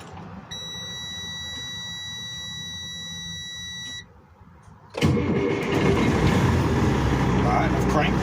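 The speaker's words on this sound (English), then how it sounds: "All right, I've cranked the truck." A semi truck's engine is cranked to build air pressure: a steady electronic tone runs beside a low idle, then after a short lull the engine catches and roars into a loud, continuous rumble.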